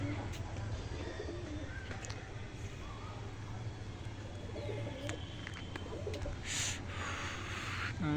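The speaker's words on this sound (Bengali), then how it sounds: "এই পায়রা ছাড়ানো হয়ে গেছে। না ছাড়লে পায়রা না দেখলে আবার নামবে না।" Soft, low cooing from a flock of domestic pigeons kept for flying, quiet and somewhat distant over a steady outdoor background hum, with a few faint chirps.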